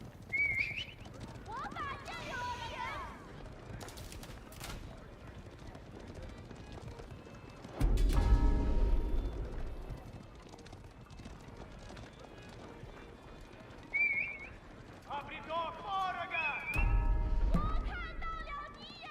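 Horse archers moving in Age of Empires: bursts of galloping hooves and horse whinnies, with scattered combat sounds, all under steady commentary talk.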